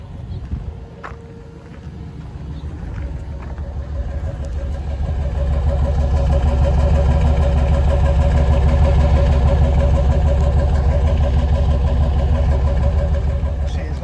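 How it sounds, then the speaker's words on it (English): A 1996 Chevrolet Suburban engine idles with a steady, deep exhaust rumble that swells slightly louder after a few seconds and then holds level throughout. "Check out the exhaust real quick."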